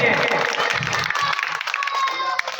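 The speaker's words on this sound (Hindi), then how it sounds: "चलिए जोरदार तालियों से स्वागत करिए।" Crowd applause welcoming a guest at an Ambedkar Jayanti celebration in Aurai, Ambedkar Nagar, a dense, steady wash of clapping with cheering mixed in throughout, with voices audible under it.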